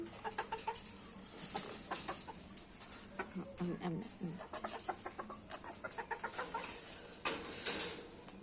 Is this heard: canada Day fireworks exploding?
no